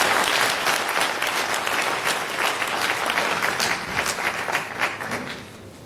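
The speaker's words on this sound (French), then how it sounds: "Nous te donnons la parole ici au micro, sous vos applaudissements" Audience applause for a speaker called to the microphone at a university gathering, a loud, steady, sustained wash of many people clapping that continues evenly throughout, with no talk over it.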